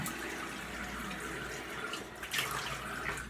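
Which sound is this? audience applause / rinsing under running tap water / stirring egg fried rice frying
rinsing under running tap water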